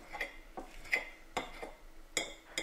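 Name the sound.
mashing hard-boiled eggs with a fork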